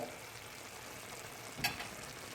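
Stuffed onions cooking in a pan, giving a quiet, continuous sizzle and crackle with one brief sharper pop near the end, close by and with no talking.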